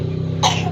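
A young child gives one short, sharp cough after a quiet stretch of low background hum.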